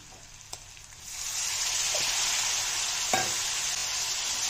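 Spice masala frying in a pan for a fish curry, a soft background hiss that swells into a loud, steady sizzle as a little water hits the pan, with a few light utensil taps.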